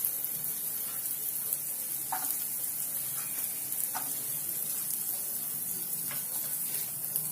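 Carrots hit a pan of sautéing vegetables for white sauce pasta, giving a steady close sizzle and frying hiss with a few short stirring scrapes, no voices.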